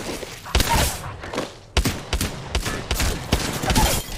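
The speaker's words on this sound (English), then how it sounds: "What a beautiful nade." Grenade blasts and gunfire in the Apex Legends battle royale game: a rapid string of sharp, loud bangs and thuds, several close together, with a broad rumbling wash between them.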